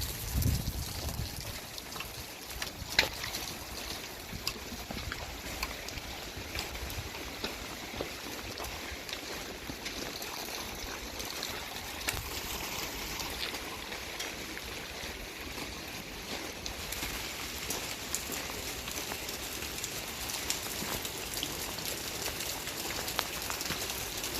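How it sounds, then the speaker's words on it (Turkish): Constant rain hissing and pattering on surfaces, dense and steady throughout, without talk. "Sürekli yağmur, sürekli yağmur."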